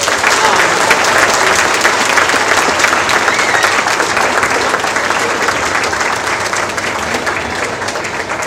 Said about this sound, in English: So can we all give them a round of applause?